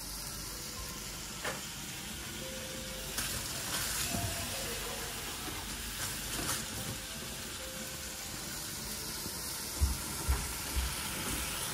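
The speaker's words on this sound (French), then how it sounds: "c'est de mettre un petit peu de l'eau dedans et déglacer un petit peu" Tomatoes cooking in a pan sizzle steadily and faintly after a splash of water is added to deglaze, with a few soft knocks of a utensil near the end and no talk.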